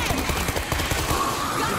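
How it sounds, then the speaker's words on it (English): Rapid gunfire in the zombie shooter World War Z, a dense run of close automatic shots fired back to back. "Gunshot!"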